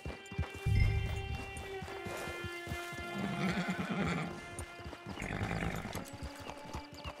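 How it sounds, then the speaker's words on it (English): A horse in Red Dead Redemption 2 whinnies loudly and snorts while its hooves clop in a steady rhythm across the ground, close up, with game ambience and a sustained musical tone beneath. "Get your horse."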